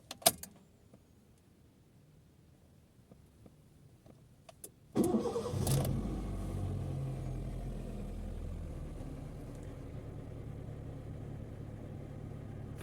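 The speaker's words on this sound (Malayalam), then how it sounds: "ആദ്യം വാഹനം സ്റ്റാർട്ട് ചെയ്യാം." A car is started for an air-conditioning check: a few faint clicks and key jingles, then a sudden cranking catch into a steady idling engine hum that continues close and even, with no talk.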